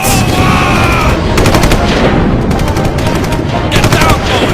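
Rapid bursts of machine gun fire rattle through a loud, dense battle din in an animated World War I combat scene in France, repeating in several rapid strings over the roar.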